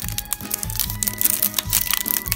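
Crinkling plastic wrapper of a Pokémon card pack being torn open, a steady stream of close crackling and crumpling with several sharper tears, loud and alone without talk.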